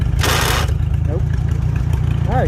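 A 1943 Farmall H tractor engine idles low and steady with a deep, continuous rumble close by. A brief burst of hiss comes early, and faint squeaks sound over the engine.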